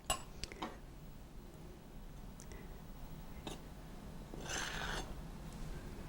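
Flour spooned lightly into a measuring cup, with a few faint clinks of spoon on cup and soft scraping rustles, quiet and close, with a slightly longer swish near the end.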